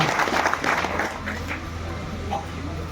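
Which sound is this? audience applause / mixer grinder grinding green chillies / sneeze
audience applause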